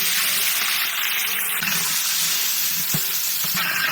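Onions and whole spices sizzle loudly in hot mustard oil in a pot, giving a dense, continuous crackling hiss with occasional stirring knocks, heard close and without talking.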